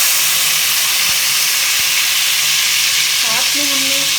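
Tomatoes tipped into a pan of sizzling beef korma, with a steady bright frying hiss throughout and a couple of soft clunks, then a brief stir and bubbling near the end; no talk.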